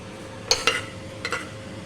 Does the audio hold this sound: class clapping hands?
no